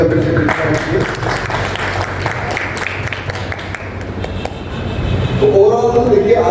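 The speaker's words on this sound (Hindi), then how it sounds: "एक बार जोरदार तालियां फिर से" At an office celebration and training party in Raipur, a crowd breaks into loud, dense clapping that thins slightly midway, then swells again as music rises underneath.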